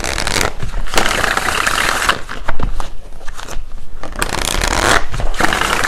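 A deck of tarot cards is shuffled close up, making a dense, continuous riffling and rustling with a few brief pauses and no speech.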